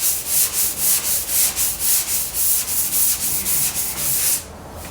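A Porsche 356 body being hand-sanded with a block and sandpaper, producing a loud, rhythmic back-and-forth rasp of about a dozen even strokes that stops abruptly near the end.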